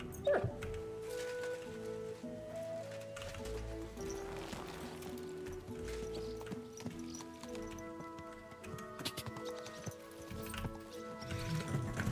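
In Kingdom Come Deliverance 2, a dog whimpers and yips among hoofbeat clip-clop and ambient game music, the animal sounds fairly quiet and intermittent under a steady tonal backdrop.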